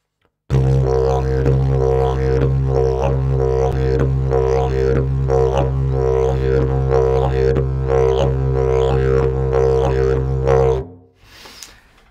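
A didgeridoo drones steadily for about ten seconds, pulsing in a repeating beginner rhythmic pattern with shifting harmonic tones, loud and close, then cuts off abruptly.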